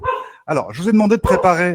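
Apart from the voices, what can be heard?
dog barking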